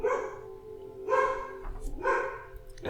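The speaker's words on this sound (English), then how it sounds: "it's just the dogs barking because that's what they do" Dogs barking nearby in three separate bursts about a second apart, each a cluster of sharp, loud barks with quieter gaps between them.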